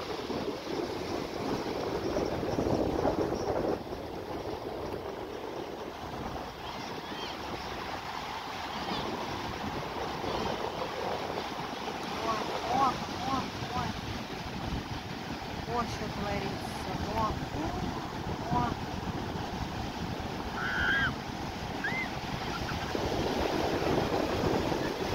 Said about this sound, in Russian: стоишь и чувствуешь, как волна из-под ног вымывает песок.